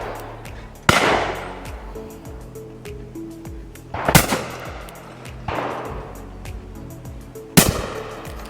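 Kizilkaya RT25 shotgun firing four sharp, loud reports outdoors at uneven intervals, each followed by a brief decaying echo, with low background rumble between shots.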